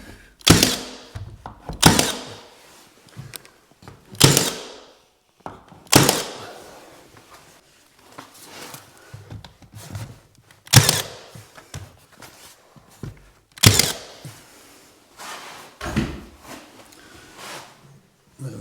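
A pin nailer fires repeatedly into MDF skirting board, each shot a sharp, close snap-thunk, arriving in irregular clusters with short quiet gaps between them.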